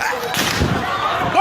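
Gunfire from a protest video played back at a polytechnic gives a few loud, sharp cracks and thuds over a short stretch, mixed with voices.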